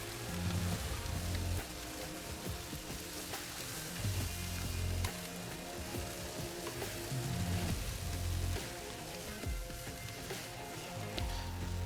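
Pork belly pieces sizzle loudly on the hot grate of a Pit Barrel Cooker, a dense continuous crackle with periodic heavier thumps and surges as pieces are flipped one after another.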